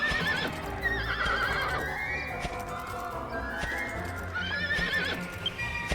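In Dragon Quest VIII, horse hooves clip-clop along while the horse neighs and whinnies loudly several times, with the game soundtrack faintly behind.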